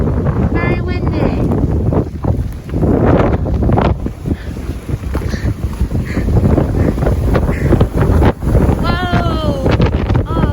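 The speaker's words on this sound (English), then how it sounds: "very windy" Strong wind roars continuously through a winter snowstorm in Nova Scotia, buffeting the microphone with loud gusts, while a voice speaks over it and faint bird calls come through briefly.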